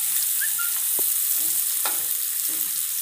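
Finely chopped onion sautés in hot oil for masala bhindi, a constant close hiss and sizzle with a few soft clicks of stirring against the pan, no talking.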